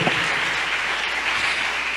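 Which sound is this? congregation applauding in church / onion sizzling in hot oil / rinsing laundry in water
congregation applauding in church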